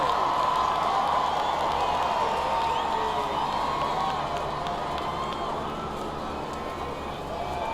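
A huge outdoor crowd at Buckingham Palace roars and cheers without pause for a royal balcony kiss, a dense, far-off wash of sound that eases slightly toward the end.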